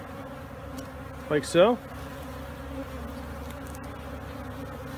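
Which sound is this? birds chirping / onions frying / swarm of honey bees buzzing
swarm of honey bees buzzing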